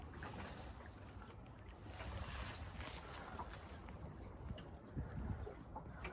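A Scamp sailboat runs with the wind behind it, giving a steady rush of water and wind noise against the hull and microphone, with a slightly louder swell near the end and no voices.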